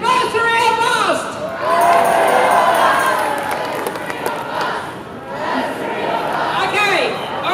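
A crowd of demonstrators chants "Bursary or bust!" at an outdoor protest, a loud, sustained mass of voices shouting in unison in repeated bursts, with cheering and chatter mixed in.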